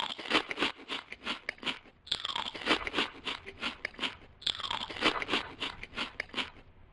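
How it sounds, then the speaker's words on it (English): Close, crisp crunching as someone chews crunchy food, steady rapid bites in three bursts with brief pauses between, loud in a quiet room. "Chewing is the first step."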